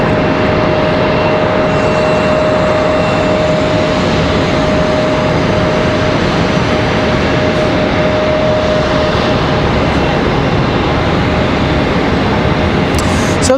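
A Republic Airways Embraer E175LR jet at Charlotte Douglas International Airport roars loudly and steadily as a broad engine rush, close and continuous, with a faint tonal whine running through it.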